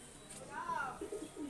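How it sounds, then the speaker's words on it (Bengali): A soft, brief coo from a green desi Giribaz high-flying pigeon sounds close by, with a few faint trailing notes over a quiet background. "দেশি গিরিবাজ পায়রা, সবুজ"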